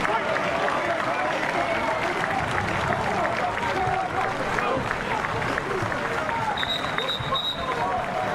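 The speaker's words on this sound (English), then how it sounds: "Colin Hart gets a round of applause, and rightfully so." A crowd at an NCAA men's lacrosse first-round game between UVA and Brown applauds a player, a steady wash of distant clapping and cheering with a broadcast commentator talking over it.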